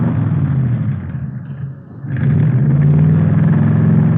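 A powerful hot rod engine rumbles loudly nearby, dips briefly, then revs back up to a deep, throaty roar that holds steady.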